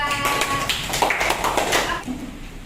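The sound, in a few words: clapping for a student group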